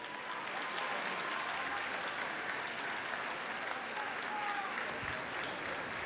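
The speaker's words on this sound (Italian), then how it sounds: "Grazie, un grande applauso." Sustained applause from an audience at a formal regional cohesion agreement signing ceremony, an even, continuous crowd of clapping hands at moderate level with no pause.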